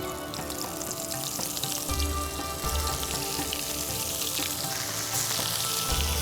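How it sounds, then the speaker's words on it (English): Kebab patties for bun kebab frying in a pan over low heat, a steady close sizzle and crackle with faint stirring and clatter, heard alone without talk. "now the time comes to cook the patties"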